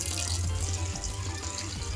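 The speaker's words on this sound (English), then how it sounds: "I'm gonna add some water" Water poured from a vessel into a pressure-cooker pot holding lentils, tomatoes and vegetables, a close, steady wet splashing and gurgling with light rattling, no voices.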